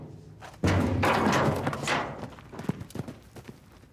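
Horse hooves come near on open ground, a sudden heavy thudding onset followed by irregular clopping and scuffing thumps that grow louder and then scatter, close by, with no voices.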